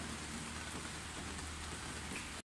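Steady rain falls in Pakistan, a dense, even hiss of drops on surfaces that holds at one level throughout and then stops abruptly.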